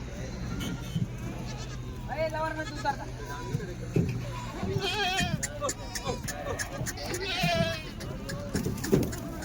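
Young goat kids bleat repeatedly in high, wavering cries at close range on a farm while eating fodder, over a busy background of livestock noise and someone talking throughout.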